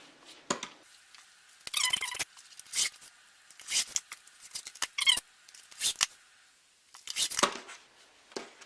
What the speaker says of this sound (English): we're going to cut our 4 binding strips.